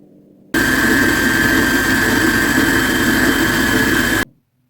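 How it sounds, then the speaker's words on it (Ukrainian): A dough mixer kneading dough runs with a steady, loud mechanical whir and constant high whine for several seconds, then stops abruptly, leaving near silence. "залишаю приблизно на 7 хвилин, щоб тістоміс мені дуже добре замісив тісто"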